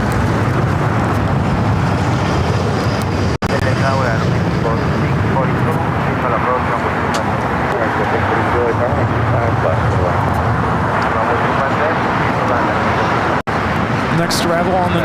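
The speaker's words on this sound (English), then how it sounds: "Delta Airlines 972 taking off to JFK on a 767 300ER." Delta Air Lines Boeing 767-300ER taking off at LAX, a broad continuous jet roar holding steady and loud throughout, with faint talk mixed in beneath it.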